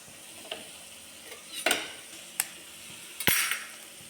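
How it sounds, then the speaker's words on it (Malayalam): An egg being stirred into Maggi masala noodles in a hot pan, with a few spaced utensil scrapes and clinks against the pan over faint sizzling and no voices. "ഇനി നമുക്ക് ഈ മുട്ട ഇതിലോട്ട് ഇട്ട് കൊടുക്കാം."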